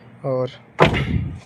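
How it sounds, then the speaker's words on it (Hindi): A car door is swung shut with a single solid, close thud, just after a brief spoken word. "अब ये दरवाज़ा बंद करते हैं"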